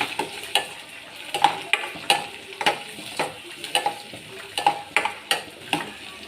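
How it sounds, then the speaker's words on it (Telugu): Onions with turmeric being stirred in a hot frying pan, a steady sizzle broken by repeated scraping strokes of a spoon against the pan, close and fairly loud with no talking. "ఇప్పుడు తగినంత పసుపు వేసుకుంటున్నాను. ఒకసారి కలుపుకుందాం."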